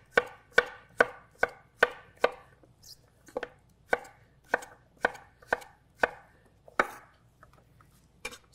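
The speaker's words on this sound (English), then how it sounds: "Cut them, and if they're too big, cut them in half." A knife chops vegetable slices into dice on a cutting board. About fifteen crisp, sharp knocks come in a steady rhythm, close and clear, with short pauses between them and no talking.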